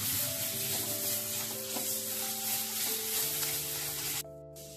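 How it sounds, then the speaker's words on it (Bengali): Quiet, continuous sizzle of spices with turmeric frying in a pan, with light stirring, while steady background music plays. "মশলাটা ভাজা হচ্ছে, ভালো একটা সেন্ট আসছে"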